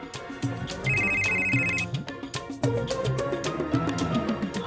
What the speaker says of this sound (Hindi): हेलो राज, तुमने अभी क्यों फोन किया?